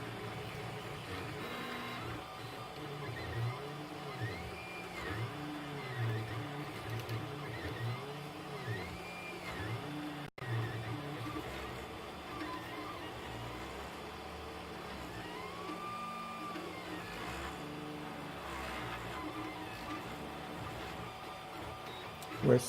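3D printer printing a mini skull in red ABS filament, quiet stepper motors whirring in repeating rising and falling tones with steady mechanical hum, close and soft, brief voice underneath.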